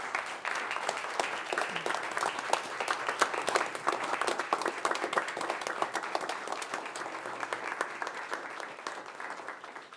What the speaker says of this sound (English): We'd also like to give you a round of applause.